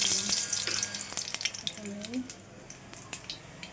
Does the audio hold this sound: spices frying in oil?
yes